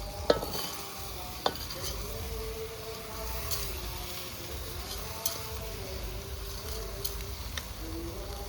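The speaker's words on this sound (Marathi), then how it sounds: "आता मस्त त्यामध्ये तांदूळ परतून घेतलेत" Rice grains stir-fried for khichdi over a village wood-fired clay stove, giving a soft scraping sizzle with occasional louder clinks of the spoon against the pot, steady and close with no talking.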